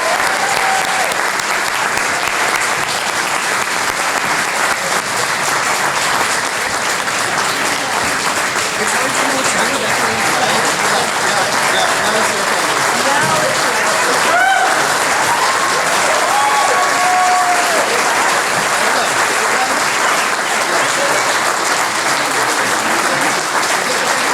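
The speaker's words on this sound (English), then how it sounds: "Can we give one more round of applause to all of our fantastic storytellers?" Sustained, loud audience applause for a round of storytellers at a live storytelling show, steady dense clapping filling the whole stretch with a few faint whoops and voices mixed into the crowd.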